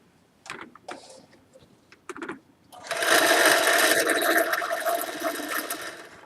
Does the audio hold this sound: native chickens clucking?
no